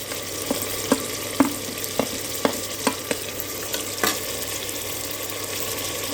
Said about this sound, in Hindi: थोड़ा सा भून लेते हैं मसालों को भी